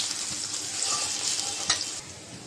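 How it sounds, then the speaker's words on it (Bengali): Chopped onion, along with chopped garlic, frying in oil in a pan, a close crackling sizzle with stirring scrapes and a sharp clatter near the end, with no voices. "পেঁয়াজটা ভেজে নেব।"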